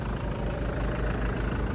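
A 2006 Kia Carnival with a 2.9-litre diesel engine idles steadily, a continuous low rumble with an even, unbroken drone and no voices over it.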